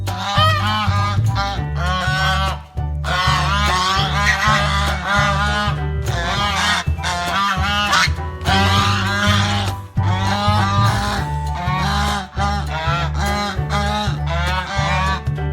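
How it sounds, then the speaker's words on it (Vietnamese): Repeated goose honks sound over a steady musical backing with a pulsing beat, the calls coming in dense bursts throughout with brief pauses. "Goose."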